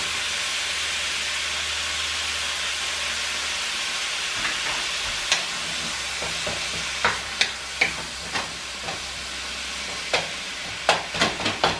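Meat for spring roll filling stir-fries in a pan. A steady close sizzle and hiss carries scattered scraping clicks of a utensil stirring, which grow busier toward the end.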